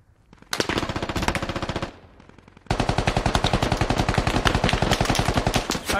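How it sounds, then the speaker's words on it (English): Sustained automatic gunfire in a Squad Ops video game, two long rapid bursts of loud, close shots separated by a brief lull, with no voices over them. "Start firing, Dark."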